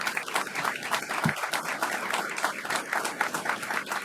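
An audience applauds a councilman, sustained moderate clapping from a room of people that stays even and somewhat soft, with a single low thump partway through.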